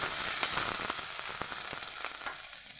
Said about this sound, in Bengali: এবার দিয়ে দেব তেঁতুলগুলো আমি সবগুলো তেঁতুলটা দিয়ে নাড়াচাড়া করব